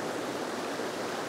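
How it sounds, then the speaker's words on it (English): A small waterfall on a river near Karamea, New Zealand, gives a steady broadband rushing roar, constant and moderately loud with no voices. "so I've got this waterfall here"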